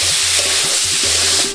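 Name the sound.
rice frying in ghee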